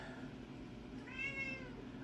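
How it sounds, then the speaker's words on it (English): A pet cat gives one soft meow in a quiet indoor room, faint and a little distant against steady background hiss, with no talking. "Oh, my kitty is in the room with me today. She's saying hello."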